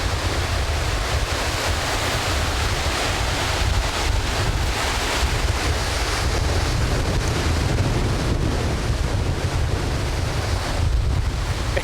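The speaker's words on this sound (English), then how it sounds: "It's pretty bloody blowy." Strong, gusty wind roars continuously across a microphone at a bush campground in the Goldfields of central Victoria, a dense, buffeting rumble with no break.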